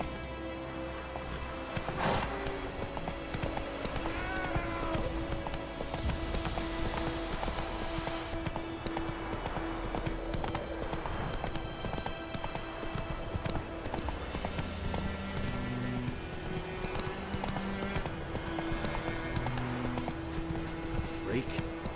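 Rhythmic hoofbeats of the horse Roach trotting in The Witcher 3, steady clip-clop carrying on throughout with occasional game sounds and a voice speaking over it.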